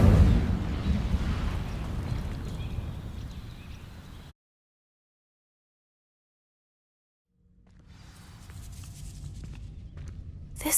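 Incendio fire spell in Hogwarts Legacy setting dry vines alight: a loud, rough burst of roaring crackle that tapers off, a few seconds of silence, then a softer crackling resumes.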